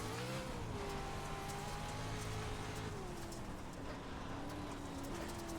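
A Pro 4 race car circles the Bark River dirt track, its engine droning steadily with a gradually falling pitch. The sound is faint and distant, as if heard from inside the car, with no talk.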